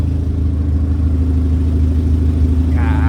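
A Honda B20 engine swapped into an EK-chassis Honda idles loud and close with a steady, even throb, its exhaust not yet welded; a brief higher whir enters near the end, no talking.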